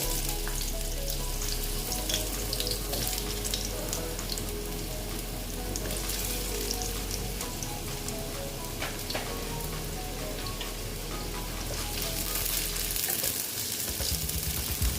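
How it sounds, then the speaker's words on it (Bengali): Potatoes frying in hot oil give a loud, steady sizzle and crackle that runs throughout, with scattered pops and occasional stirring and no voices. "এখন আমি আলুগুলো ভেজে নেব"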